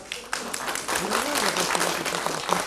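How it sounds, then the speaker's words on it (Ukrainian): Applause fills a council session hall, a dense continuous patter of clapping that starts abruptly and holds steady while a voice talks over it. "Оплески для Шалімова"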